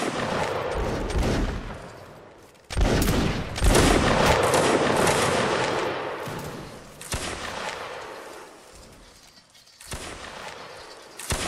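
Musket volleys ring out in a Napoleonic Wars line battle game, with dense crackling bursts of fire, a heavy crash near the start and further rolling rounds that fade in and out, and no talking.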